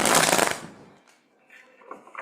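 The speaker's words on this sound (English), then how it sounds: "One more shuffle." Tarot cards being shuffled by hand, a dense riffling burst at the start that fades into quieter handling sounds.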